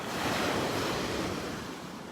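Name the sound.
ocean waves on the beach at Delnor-Wiggins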